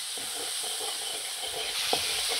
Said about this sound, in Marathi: हा टमाटा सुद्धा ह्याच्यात टाकून घेणार आहोत आणि टमाट्याचा गाळ होईपर्यंत त्याला व्यवस्थित असं परतून घ्यायचं